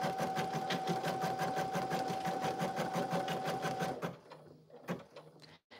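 An embroidery machine stitching an in-the-hoop lip balm holder, a fast, even mechanical chatter with a steady whine, then pausing into a few scattered clicks and thumps.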